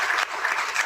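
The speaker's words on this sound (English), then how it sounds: "Jonathan, give him a round of applause." A short burst of audience applause at a formal panel session on chemical safety law, steady dense clapping from a seated crowd with no voices.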